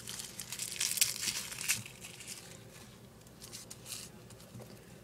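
Dry papery garlic skin being torn and peeled from a clove by hand, giving close, quiet crinkling and crackling bursts that come in small clusters with brief pauses.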